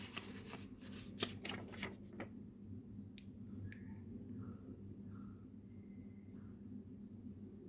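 Tarot cards are shuffled in a quick series of crisp riffling snaps during the first two seconds, followed by faint, soft card handling and small taps close by in an otherwise quiet room.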